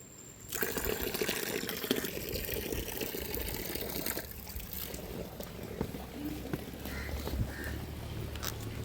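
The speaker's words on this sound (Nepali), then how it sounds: "सुन्दरी जलको पानी" Water flowing steadily at the Sundarijal drinking-water source in Nepal, a continuous close rushing and trickling wash that holds at an even level throughout, with no voices.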